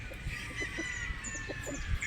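Young pullets on a game farm in Batangas cluck and peep in soft, scattered calls over a steady hum of background noise, several birds close by.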